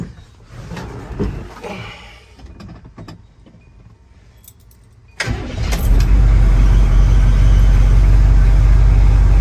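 A CUCV M1008 military Chevy truck starts up after its batteries are reconnected: quiet clicks and shuffling, then the engine cranks and catches at about five seconds and settles into a loud, steady idle.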